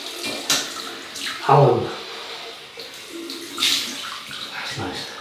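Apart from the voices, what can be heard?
cold water running from tap for rinsing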